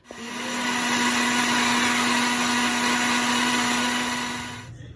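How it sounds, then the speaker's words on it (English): A blender whirs loudly and steadily for several seconds as it purées fried vegetables into salsa, then cuts off abruptly at the end. "After you're done blending your vegetables, you have your salsa"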